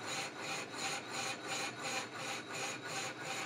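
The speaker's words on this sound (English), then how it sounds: "If you have a look at the lathe tool, you'll see that the lathe tool is moving up and down as it keeps contact in the hard part" A lathe tool cutting the hard chilled edge of a cast flywheel, making a steady loud rasping scrape that pulses in a regular rhythm, about twice a second, as the tool rides up and down on the hard spot.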